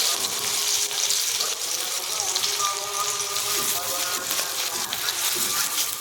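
Chopped onion hits hot mustard oil in a kadai for a spicy fish curry, giving a steady, dense sizzle that stays loud and even throughout, with no talking heard.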